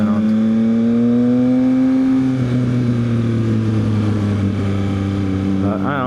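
Yamaha XSR900 triple-cylinder motorcycle engine revving up steadily, its tone climbing and holding high before settling, loud and close with no talking over it.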